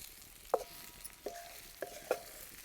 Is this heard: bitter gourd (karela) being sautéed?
yes